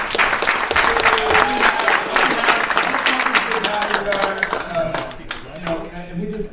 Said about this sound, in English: I want to give a round of applause to my wife